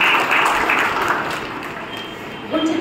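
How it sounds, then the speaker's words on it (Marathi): Loud, sustained applause from a crowd at a public event in Akola, steady clapping throughout with a slight swell near the end, voices murmuring underneath. "जोरदार टाळ्या आपल्या सर्वांकडून झाल्या पाहिजे."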